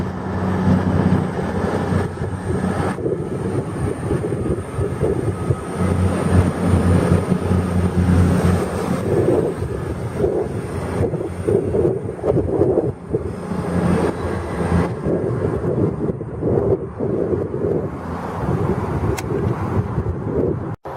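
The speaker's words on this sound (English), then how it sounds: "Next train to leave platform 6 is a Virgin Trains Voyager, Super Voyager to Chester." Virgin Trains Super Voyager diesel train pulling away from platform 6 at Milton Keynes Central, a sustained engine drone and rumble that builds then slowly fades over about twenty seconds, with no talking.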